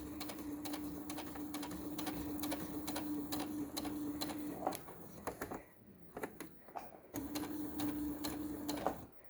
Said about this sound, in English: So now we're just going to stitch it on the edge. So it's going to back stitch.